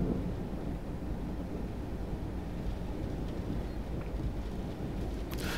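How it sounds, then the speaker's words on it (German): A Train Sim World 4 thunderstorm from a sound mod, with steady dense rain and low rumbling thunder filling the whole stretch at a soft, even level and no voices. "Eieiei, hört ihr das Gewitter?"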